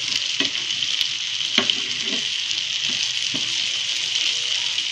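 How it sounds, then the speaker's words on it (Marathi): Tuna (kupa) fish pieces shallow-frying in a pan over a medium flame, with a steady, dense sizzle throughout and a few scattered pops and spatters, close and fairly loud with no talking. "गॅस एकदम मध्यमच ठेवायचा म्हणजे चांगलं फिश आपली चांगली फ्राय होते।"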